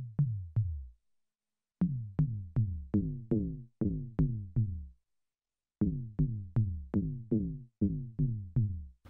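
Synth toms from a Korg Minilogue with the LFO modulating the filter cutoff at maximum rate, giving a buzzy, almost FM-like edge; short pitched hits fall in quick rhythmic runs separated by brief pauses, dry and close with no voices.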